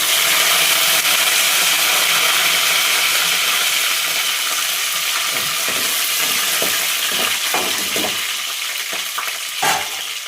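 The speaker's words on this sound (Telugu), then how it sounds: "ఇప్పుడైతే ఎండుమిర్చి కూడా వేసిన, ఒక 4 ఎండుమిర్చి వేసిన. సరేనా, చూడండి ఎండుమిర్చి అయితే వేగినాయి. కలిమాకు కూడా వేస్తున్నా." Dried red chillies and curry leaves fry in hot tempering oil for spinach dal, a steady loud sizzle with crackling spatters and stirring scrapes that ease off slightly toward the end.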